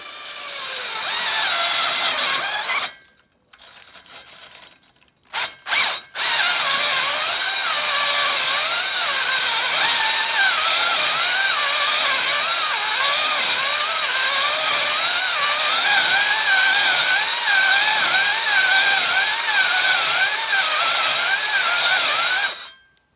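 Electric drill spinning a hone inside the cylinder bore of a PW80 engine during a top end rebuild; a loud, steady whirring grind runs almost continuously, with a short pause and a few brief stops near the start.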